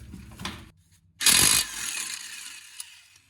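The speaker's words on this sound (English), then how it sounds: "Impact gun makes this job so easy." An impact gun zips off a Jeep Grand Cherokee brake caliper bolt in one short, loud burst of rapid hammering, with quieter mechanical clicks and handling noises before and after.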